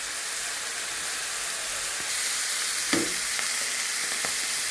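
Onions frying in a pan until reddish before spices go in, giving a loud, steady sizzling hiss throughout with a few brief stirring clinks near the end.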